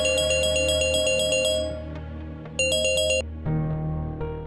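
A phone ringtone plays close by, a bright repeating electronic melody in short bursts, pausing briefly before another burst and a lower tone.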